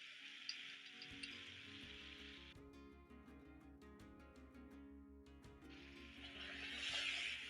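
Tomatoes tipped into a pot of cooking camel meat give a steady, close sizzle that runs throughout, with a few clinks and stirring knocks over a low hum.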